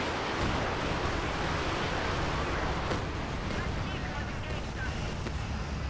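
An artillery barrage pounds away in the Company of Heroes 2 strategy game. It is a dense, continuous roar of overlapping blasts and rumble, loud and unbroken for the whole stretch.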